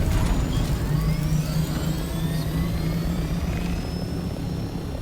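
A helicopter in the game Dune: Awakening flies steadily and loudly, its low, continuous rotor and engine drone filling the whole stretch with no voices heard.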